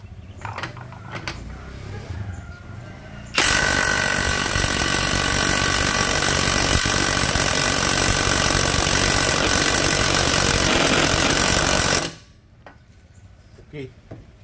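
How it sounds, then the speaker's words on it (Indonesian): A Dongcheng DCPB689 cordless impact wrench at its highest RPM and torque setting hammers loudly and continuously for about nine seconds while tightening, with quieter handling noise before and after. "Yang pertama kita eratkan dulu menggunakan mesin impact wrench-nya."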